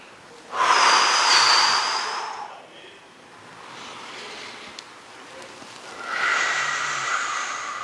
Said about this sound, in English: Remember to breathe.